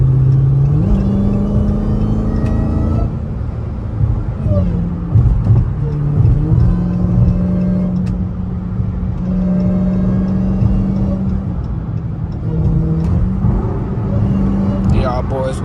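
Dodge Hellcat cruising at highway speed, steady engine drone with a supercharger whine rising and falling through shifts, continuous and close throughout, with people talking over it.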